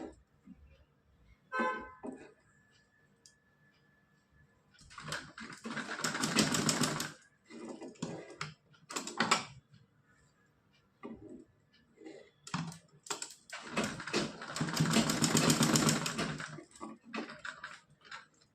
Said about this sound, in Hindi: हमको सीधी सिलाई लगा लेनी है।